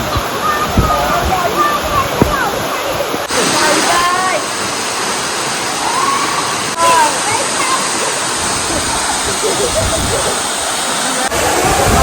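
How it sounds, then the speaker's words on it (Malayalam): Vattappara waterfall near Valanchery, Malappuram, on a rainy day, roaring as a loud, continuous rush of falling water close by, with voices talking over it. "ഇവിടെ നിന്നാണ് ഈ വെള്ളം മേലെ ചാടി വരുന്നത്"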